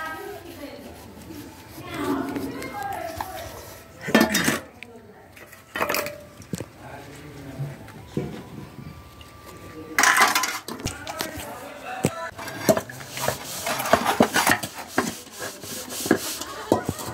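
Dirty dishes, pots and pans left after Dashain festival meals are scrubbed and rinsed by hand, with repeated clinks, scraping and rubbing of metal utensils nearby, and a voice occasionally talking.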